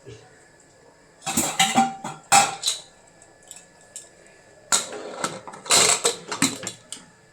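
Metal lid of a pressure cooker handled and closed over a meat curry, two bursts of close clanks, scrapes and clicks separated by a short quiet gap.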